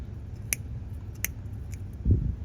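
Two or three crisp, faint scissor snips while trimming a hose or wire during a nitrous purge button install on an AE86 with a 2JZ engine, followed by a soft low thump, in a quiet garage without talk.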